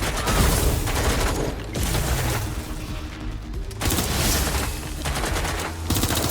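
Heavy sustained automatic gunfire in the action game Watch Dogs Legion, loud dense volleys crackling in long bursts with brief lulls between them.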